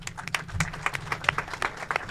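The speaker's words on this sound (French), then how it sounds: "que je vous demande d'applaudir." An audience at the opening ceremony of an economic forum in Podor applauds, giving brief, fairly quiet clapping with distinct individual claps over a low hum of the room.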